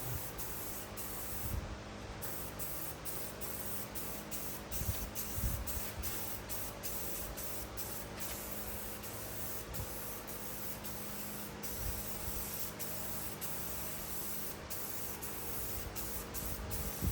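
Rattle-can satin black spray paint applied to parts on a body-dropped Suzuki Samurai, a long continuous hiss with short breaks, close to the microphone at a moderate, even level.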